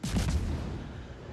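Warship gunfire in World of Warships: a single heavy, booming cannon blast with a quick burst and a rumbling tail that fades over about a second.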